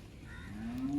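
A single short, low moo from an HF cow at a cattle market, rising slightly in pitch toward the end, fairly faint against a quiet background.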